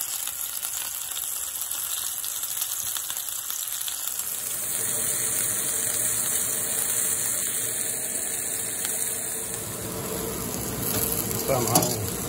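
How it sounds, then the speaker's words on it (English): Sesame seeds toast in a hot pan, giving a bright, steady sizzle with a high hiss that builds after a few seconds and runs on alone, close and fairly quiet. "so don't burn the sesame seeds, don't burn it. Brown is good."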